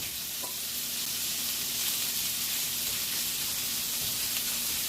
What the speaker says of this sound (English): go and get our bacon going. Just strips of bacon.